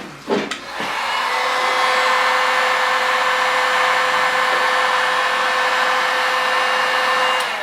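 A heat gun strips paint from cabinet doors, switching on with a click and then roaring in a steady, loud, close blowing hiss that holds unchanged for several seconds, with no voices.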